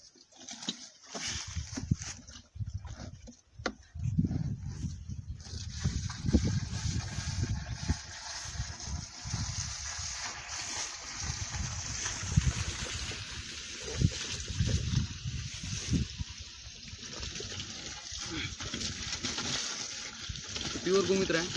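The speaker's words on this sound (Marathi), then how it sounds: "आता गोमूत्र टाकूया आपण वरून" Cow urine is poured over cow dung, gram flour and jaggery while jivamrut is prepared for natural farming, giving a steady splashing, trickling pour under a person talking.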